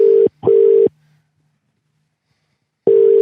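Telephone ringback tone on an outgoing call to a plumber: two short steady buzzing bursts in quick succession, a long silent gap, then the double ring starting again, clear and loud on the line.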